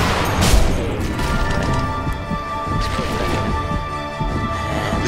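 Gunfire in the sniper shooter Sniper Elite V2 during co-op play, a sharp loud shot early on followed by a dense, rumbling mix of game noise and distant crackle throughout.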